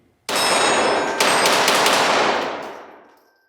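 A Kel Tec CP33 .22LR pistol fired in a fast continuous string, sharp cracks blurring into one loud, dense burst with metallic ringing that fades over about three seconds.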